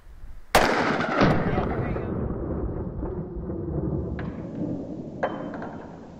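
A single sharp, loud 9mm gunshot fired at a folding bulletproof shield, with a long rumbling echo decaying behind it, followed by fainter clanks or a second small report.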